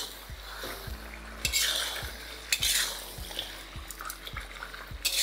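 A spoon scrapes and knocks repeatedly against a pan as chicken is stirred with ginger-garlic paste over medium-high heat, with a light sizzle and clinks of metal, close and without talk.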